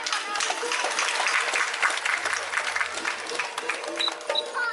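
An auditorium audience at a Shivrajyabhishek ceremony in Vashi's Vishnudas Bhave theatre claps loudly and continuously, a dense steady roar of many hands throughout.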